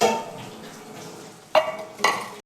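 A metal lid set down on a cooking pot of prawn and coconut curry, two sharp clanks close by over a faint kitchen background.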